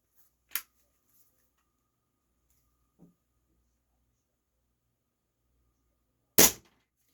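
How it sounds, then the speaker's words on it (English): A Stoeger X20 .22 calibre spring piston air rifle, made in China, fires pellets: two sharp, isolated cracks several seconds apart, with a faint small click between them in an otherwise quiet room. "Got 5 of them with the Stoeger X20, 22 caliber spring piston air rifle, made in China."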